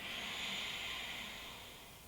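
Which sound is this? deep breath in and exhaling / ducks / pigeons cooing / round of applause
deep breath in and exhaling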